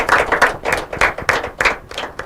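An audience at a school quiz and debate competition claps briskly and close by, a dense patter of hands in a short burst of applause for the competing schools.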